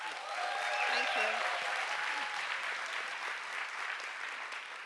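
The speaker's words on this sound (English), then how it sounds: "Warm applause for Mariam." Warm audience applause for a speaker at a Science Slam, dense sustained clapping from a crowd throughout, with a few voices calling out faintly underneath.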